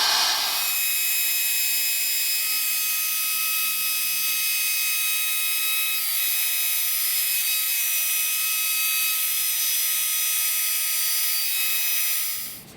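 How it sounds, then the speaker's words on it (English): Solid carbide downcut spiral router bit in a router cutting wood: a steady, loud high-pitched whine with a dense broadband cutting hiss that holds for about eleven seconds, with no talking. "I'm now going to use the downcut bit, the downcut spiral, and so we can kind of see exactly how it works"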